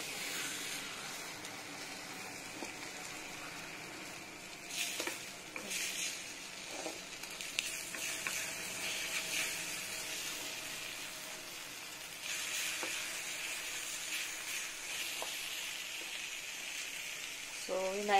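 Bitter gourd and egg frying in a pan, giving a steady hiss and sizzle throughout, with occasional scrapes and knocks of a utensil stirring them, no talk heard.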